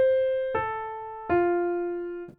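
Three sustained keyboard notes in a neo soul chord progression, each new chord struck at roughly even intervals with the melody stepping down, ringing and slowly decaying, played alone without talk.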